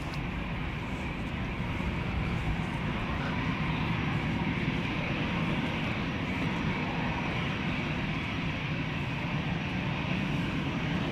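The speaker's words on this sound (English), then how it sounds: "That's Croatia Airlines flight 451 to Zagreb." A Croatia Airlines airliner in Star Alliance livery departs Amsterdam Schiphol, a loud continuous broadband engine roar holding steady throughout, close by.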